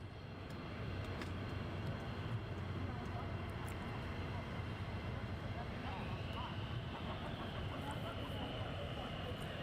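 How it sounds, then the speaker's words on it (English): Military jets taxiing out at RAF Lakenheath give a steady, distant engine roar and whine that holds level throughout, with a higher whine building partway through. "we've got some aircraft taxiing out"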